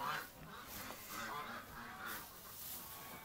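Geese honking inside a goose shed, several soft repeated honks and cackles at moderate distance over a steady low background.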